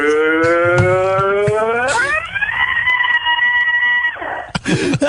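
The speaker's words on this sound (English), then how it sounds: "Do a rock scream from the elevator." A man lets out a long, sustained rock-style scream from inside an elevator, loud and strained, holding one pitch before sliding higher and then breaking off into rough noise near the end.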